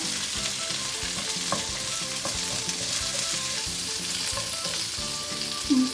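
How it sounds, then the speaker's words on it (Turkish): Continuous close sizzling of asparagus frying in hot oil, with a steady crackling hiss and faint rhythmic bubbling underneath. "Bu şekilde güzelce kızartacağım onları da."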